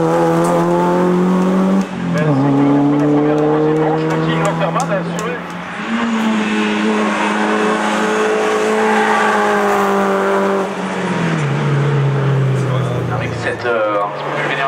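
An older BMW race car climbs the Turckheim hill course, its engine loud and close with sustained high revs, audible gear shifts and drops, while a commentator speaks over it.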